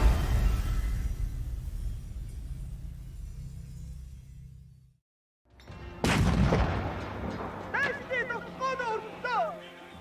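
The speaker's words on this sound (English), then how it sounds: "The Mongols' new long-range trebuchets would test the mighty walls of the Song fortress, and Kublai Khan would not stop the bombardm" A trebuchet bombardment in the Age of Empires 4 video game, with deep rumbling impacts and crashing booms, a brief silent gap, then a loud renewed barrage while a narrator speaks.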